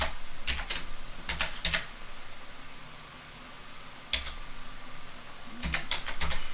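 Close typing on a computer keyboard comes in short bursts of quick clicks separated by pauses, over a faint steady hum while IP addressing is set up on routers and switches.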